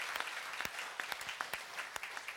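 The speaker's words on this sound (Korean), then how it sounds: "우리 박수로 격려하며 하나님께 영광 올리겠습니다." A church congregation applauds in a sustained burst of steady, mid-distance clapping with a few sharper individual claps.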